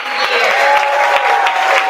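Audience applause at a school board meeting honoring 30-year staff, a steady wash of clapping from a full room, loud and continuous with a faint tonal hum underneath.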